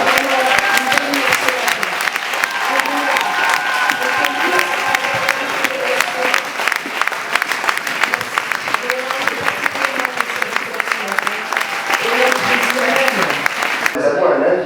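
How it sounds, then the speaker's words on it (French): A church congregation rises to its feet and applauds at length, a dense, steady wash of clapping from a large crowd with voices mixed in, continuing unbroken throughout. "en vous levant et en applaudissant l'ami qui est là ce matin"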